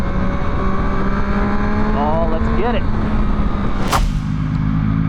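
A 2024 Yamaha MT-09 engine pulls hard on a road, a loud constant drone with rising pitch sweeps as it accelerates through gears, with wind roar throughout and a rider's brief excited remark over it.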